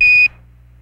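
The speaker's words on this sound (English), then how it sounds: "Your testing of the caution and warning system at the left-hand side of the panel" The Apollo 13 caution and warning system is tested: a single loud, high electronic beep lasts about a quarter second, then cuts off, leaving only a low steady cabin hum.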